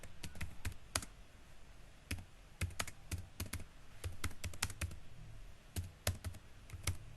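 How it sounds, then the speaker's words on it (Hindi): A search query is typed on a computer keyboard: sharp key clicks come in quick bursts with short pauses between them, close and fairly quiet, with no talking. "ये मैं क्या कर रही हूँ, मैं यहाँ पे एक क्यूरी टाइप कर रही हूँ"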